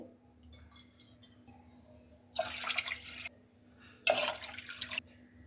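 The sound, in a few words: water poured into a pot for sugar syrup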